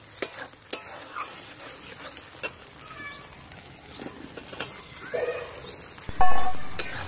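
Fried small potatoes are stirred into hot masala oil for aloo dum, heard as a soft steady sizzle with scraping spoon strokes and a few clanks, ending in a louder burst of frying, close and without talk.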